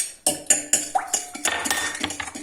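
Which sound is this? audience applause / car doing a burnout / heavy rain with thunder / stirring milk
stirring milk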